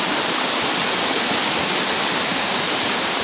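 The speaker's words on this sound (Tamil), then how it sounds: "ஃபால்ஸை பாருங்கள் எவ்வளோ அருமையாக தண்ணி குதிக்குது" Water plunges down a waterfall at an outdoor falls, making a steady, loud, unbroken roaring rush heard up close with no voices.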